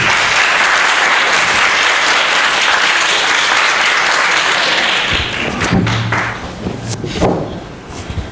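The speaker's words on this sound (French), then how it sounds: "sous vos applaudissements, s'il vous plaît." Loud audience applause at a school quiz contest between Lycée Talibou Dabo and Lycée Lamine Gueye fills the room steadily, then thins into scattered claps, thumps and a few voices near the end.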